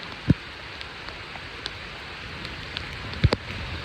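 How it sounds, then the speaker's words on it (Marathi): First rain of the season falling, a soft continuous hiss of rainfall with a few sharper drops striking nearby, fairly faint and steady with no voices. "तरी हा अजून पहिलाच पाऊस आहे"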